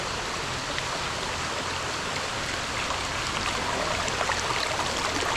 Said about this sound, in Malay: Sungai berbatu-batu.